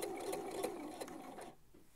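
Sewing machine stitching fabric for men's boxers, a steady close mechanical whir that runs continuously and stops near the end.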